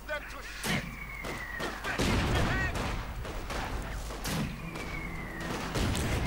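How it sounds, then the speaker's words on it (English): Mortar and gunfire from the video game Company of Heroes 2, with repeated booming impacts and sharp shots at a moderate distance, beneath a commentator talking over the battle. "More mortar fire going in."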